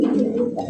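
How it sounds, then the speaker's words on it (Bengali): A Lahori pigeon, grey-barred, coos softly and briefly at close range, a low throaty murmur. "গ্রে পার লাহুরি কবুতর"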